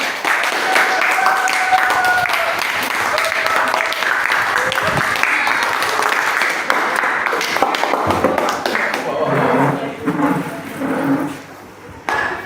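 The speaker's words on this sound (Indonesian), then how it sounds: "Berikan tepuk tangan yang meriah." Classroom applause after a student group's presentation, a dense wash of many hands clapping that carries steadily for about eight seconds before thinning and fading, with voices murmuring underneath.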